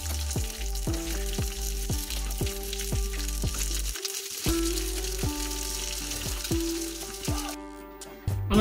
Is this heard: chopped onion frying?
yes